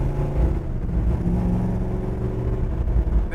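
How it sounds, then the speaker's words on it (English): A 1969 Chevrolet Nova rumbles through its exhaust pipes in a steady, deep idle-to-rev burble, close by and moderately loud, with no talking over it. "Around the corner here, make those pipes talk again."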